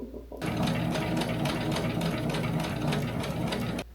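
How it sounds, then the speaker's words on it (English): Sewing machine doing a zigzag stitch, one continuous close, loud mechanical whir running steadily for several seconds before stopping, with no talk over it. "I just zigzag stitched on like the wrong one entirely."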